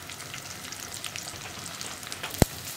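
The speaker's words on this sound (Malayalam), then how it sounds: "ഇപ്പോൾ നമ്മുടെ കടുക് പൊട്ടിക്കൊണ്ടിരിക്കുന്നുണ്ട്." Mustard seeds splutter in hot coconut oil in a heated pan for thoran, a close, dense crackling sizzle with one sharp loud pop near the end.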